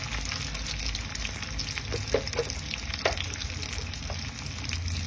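Bay leaf, cumin seeds, cashews, raisins and ground cumin fry in hot oil for a fish-head dal, a steady close sizzle with a few soft stirring clicks.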